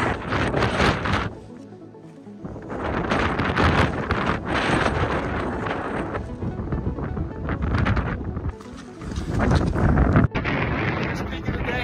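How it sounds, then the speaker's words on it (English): Strong wind whips across the clouded-in summit of Mount Flume in the White Mountains, a loud, gusty roar buffeting the microphone nearly throughout, easing briefly around two seconds. "Clouded in right now, wind is whipping."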